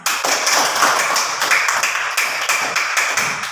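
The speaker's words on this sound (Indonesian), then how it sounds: "Kita tepuk tangan dulu untuk semuanya" Steady, continuous applause from a class in a classroom, many hands clapping together at even loudness throughout, with no voices.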